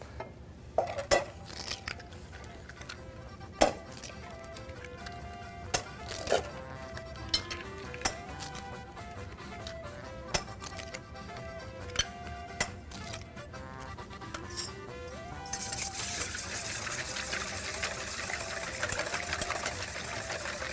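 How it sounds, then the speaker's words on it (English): Six eggs being lightly beaten in a bowl with a whisk or fork, a rapid run of clinks and scrapes against the bowl that grows into steady, dense beating toward the end. "In this bowl, we're going to take 6 eggs and we're going to lightly beat them"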